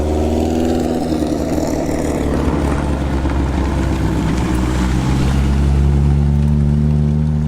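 A Renault R11 fitted with a Clio 16V turbo engine runs loud and close at a historic hill climb, with a steady deep engine drone that rises in pitch toward the end. No talking.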